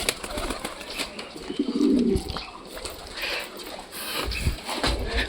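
Pet pigeons cooing close by in their enclosure, with low throaty coos, a burst of wing flapping and some handling noise around them.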